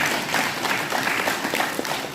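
A seated audience breaks into brief, close applause, a dense rattle of clapping that stays fairly even for about two seconds.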